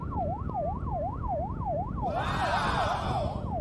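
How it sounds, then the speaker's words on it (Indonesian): A Malaysian ambulance siren wails in regular rising-and-falling cycles amid road traffic, loud and close, with a second higher siren tone joining partway through. "Betul lah ambulan, mungkin kecemasan tu."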